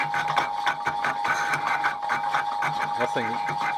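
Steady mechanical rattling and chattering from an old South Bend 14 1/2 metal lathe, back gear backlash during an interrupted cut, a rapid uneven clatter over a constant whine, with a voice briefly audible near the end.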